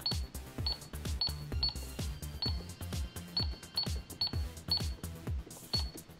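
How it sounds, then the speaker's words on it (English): Buttons on a toy cash register are pressed one after another, each giving a short electronic beep followed by a brief sound for a menu item, in a steady repeating rhythm. "if you turn on your cash register, you can press these buttons to hear the menu selection"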